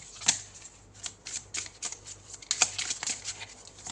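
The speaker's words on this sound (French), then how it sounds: "Allez, on sort 2 autres cartes." Tarot cards shuffled and drawn during a reading, a rapid run of crisp papery flicks and riffles close to the microphone, with a few sharper snaps, and no talking.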